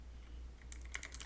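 Quick bursts of keystrokes on a computer keyboard, a short cluster of crisp, light clicks close by in an otherwise quiet room, arriving in the last half second.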